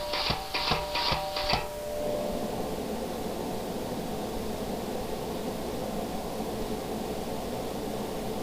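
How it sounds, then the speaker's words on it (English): A shouldering tool carves a wooden dragon door pull: a few quick stuttering pulses, then a steady, continuous close whirring grind that holds evenly to the end. "there's the shouldering tool again"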